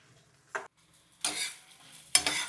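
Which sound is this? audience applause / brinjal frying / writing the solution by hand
brinjal frying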